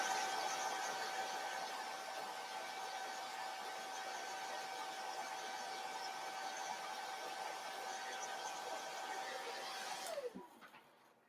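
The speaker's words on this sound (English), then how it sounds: "I'm just going to blow dry it a little bit because I got a lot of paint on that one" A hair dryer blows steadily to dry stencil paint on a 14-inch round door sign, a constant close whoosh with a faint whine that cuts off abruptly near the end.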